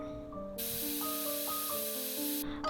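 A sharp, steady hiss of steam bursts from a pressure cooker cooking chicken stew and holds for a couple of seconds before cutting off, with soft music playing underneath.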